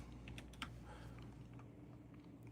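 Fingers tap at a computer keyboard in a quick, faint burst of clicks near the start, then fall into near silence.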